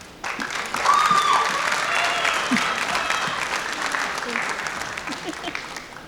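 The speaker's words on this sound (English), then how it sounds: "One more round of applause for Mrs. Tonelli." School assembly audience applauding Mrs. Tonelli at a drive-responsibly event, a dense crowd clapping that swells quickly and holds steady before gradually tapering off.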